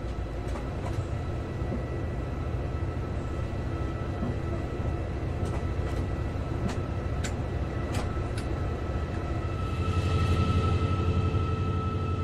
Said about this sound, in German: Mit nur 20 km/h rollt der Zug über die Anschlussbahn ins etwa 10 Kilometer entfernte Bokelow.